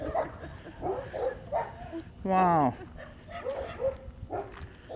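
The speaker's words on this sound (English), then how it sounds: "They got like 17 dogs in their yard, man." A pack of dogs bark repeatedly in a yard, with one sharp, loud yelping burst in the middle, while people talk over the barking.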